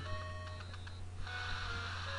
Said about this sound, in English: That noise you're hearing right there is supposed to be the ocean.